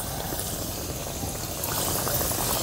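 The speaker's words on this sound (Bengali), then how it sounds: "এবার পিঠেগুলো একটা একটা করে ছেড়ে দেব।" Pitha frying in medium-hot white oil in a kadai, a dense steady sizzle and crackle close up, growing slightly louder toward the end, with no talk.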